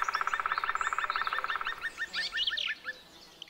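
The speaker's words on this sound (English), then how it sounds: "like this frog." A frog calls in rapid, evenly spaced pulsed croaks, then shifts into a series of separate chirping notes, close and clear in a forest in Montenegro, with no voices.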